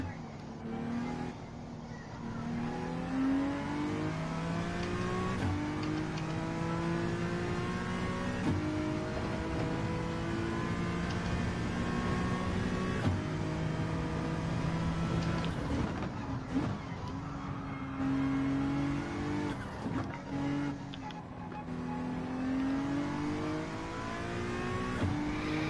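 Two Ferrari race cars in a racing video game, engines revving and climbing through gears in repeated rising sweeps, a steady loud drone with brief dips between shifts.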